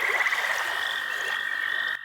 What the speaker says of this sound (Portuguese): Por que os sapos coacham à noite?